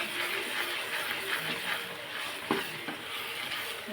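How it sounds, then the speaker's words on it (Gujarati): Garam masala stirred into frying food in a pan: a steady, close sizzle with scraping strokes of a spoon running through it, and no talk. "ગરમ મસાલો આપણે મિક્સ કરી દઈશું"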